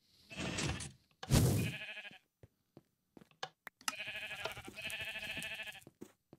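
Minecraft sheep bleat in a quick run of wavering, harmonic calls, with a few soft clicks between them and one noisy burst early on; no one speaks.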